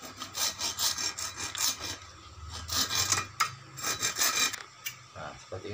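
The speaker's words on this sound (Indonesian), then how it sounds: "kita potong dengan gergaji besi" A hacksaw rasps back and forth through metal in steady strokes, a close, harsh scraping that pauses briefly between bursts.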